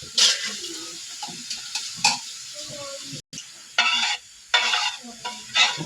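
Food being stirred in a pan with a spoon before going into a rice cooker, bursts of scraping and sizzle recurring irregularly, close and moderately loud, with a brief silent gap partway through.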